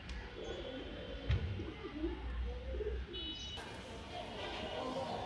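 A pigeon coos nearby in soft, repeated throaty calls over a low background hum, with a brief thump and faint chirps around it.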